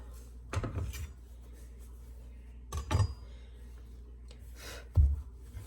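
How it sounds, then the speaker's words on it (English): Fresh oregano chopped with a knife on a board during home meatloaf prep, giving three separate knocking chops spaced a couple of seconds apart over a quiet kitchen background. "I've got my fresh oregano here, and I'm going to chop that up."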